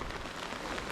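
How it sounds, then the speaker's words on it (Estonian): Rain patters steadily on a windy Lapland lakeshore fishing trip at Paalia lake, a brief, even hiss of falling drops with no talking. "Ootame, et vihm järele jääb. Jah, vihm võiks järele jääda."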